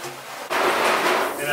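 Water sprays onto a photo emulsion screen to wash the emulsion out: a sudden loud broadband hiss starts after a brief quieter stretch and continues steadily to the end.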